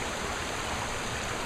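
A creek runs steadily along a fall hiking trail near Silver Lake, a continuous close wash of water with no breaks and no voices.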